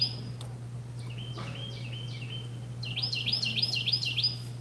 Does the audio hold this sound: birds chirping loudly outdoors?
yes